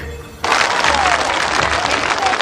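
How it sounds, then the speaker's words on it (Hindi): A large crowd breaks into loud, sustained applause at a public rally in Kaziranga, the dense clapping starting abruptly and continuing steadily without pause. "एक बार जोरदार तालियों से इन लखपति दीदियों का सम्मान कीजिए।"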